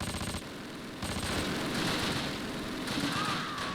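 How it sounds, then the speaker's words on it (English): Panther tanks and other units open fire in the Close Combat wargame, with dense rattling machine-gun bursts and overlapping gunfire in a sustained fusillade, loud and continuous with a brief lull near the start. "Like, everything's shooting at us now, including the other Panther that was leaving us alone."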